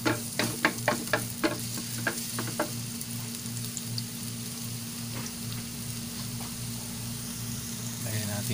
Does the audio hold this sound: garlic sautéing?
yes